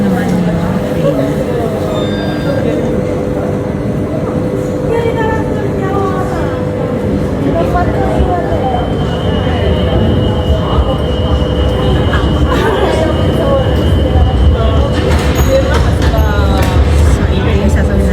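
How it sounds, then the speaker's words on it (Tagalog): A modern tram pulls into a station at night in Valencia, its rumble and squealing wheels sustained under the murmur of a nearby crowd, with occasional chimes rising over the steady mechanical drone. "Paparating na guys yung tram."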